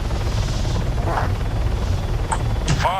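Helicopter rotor thrum from the Arma 3 video game, a steady low drone running throughout with people talking over it.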